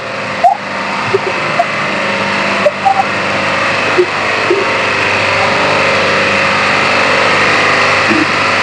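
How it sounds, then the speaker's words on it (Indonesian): Mycom compressor machines run steadily at a fish processing plant in Simeulue, Aceh, a loud continuous mechanical hum and drone with faint clicks and knocks scattered over it, close by. "Di sini ada mesin-mesin kompresor, bisa kita lihat."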